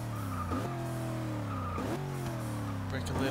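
A virtual 1974 Toyota Corolla SR5 in the racing game Forza 6 struggles for traction, its engine droning steadily with two upshifts while the tyres scrub and squeal.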